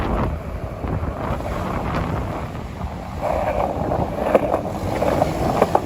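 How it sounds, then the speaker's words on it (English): Strong wind buffets the microphone outdoors in a New York City riverside park, making a continuous rumbling roar with gusts that swell and ease. "The wind is so strong it's blowing me off the skateboard."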